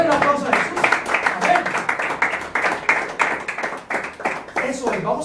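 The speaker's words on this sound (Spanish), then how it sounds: "Dale un aplauso a Jesús" A church congregation claps for Jesus, a steady patter of hand claps running under a voice that keeps talking over it throughout.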